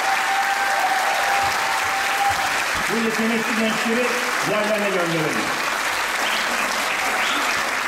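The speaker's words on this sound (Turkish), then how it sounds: "Şöyle kuvvetli bir alkış daha." Steady, dense applause from an audience at a year-end piano recital by a public education centre in Şile, filling the whole stretch while someone speaks over it.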